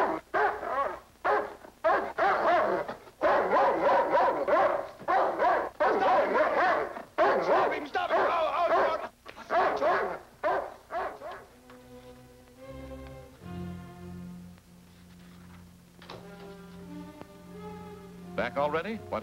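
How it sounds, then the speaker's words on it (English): A dog barks and yips repeatedly in a 1944 western film, sharp barks in bursts mixed with people talking, followed by a quieter stretch with a few whimpers. "Don't you like dogs?"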